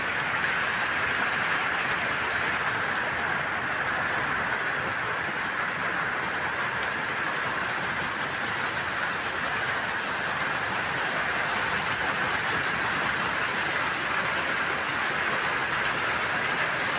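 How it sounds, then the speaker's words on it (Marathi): Steady, dense rainfall pours down continuously, a loud even hiss of drops striking surfaces without a break. "आता वाढत चाललाय पाऊस"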